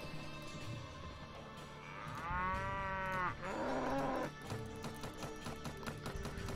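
Cattle in the medieval combat video game Warband Warsword Conquest give a clear, drawn-out moo in the middle, heard over a faint, steady game soundtrack.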